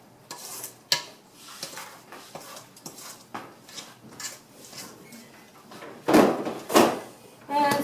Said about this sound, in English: Scrape off the beater.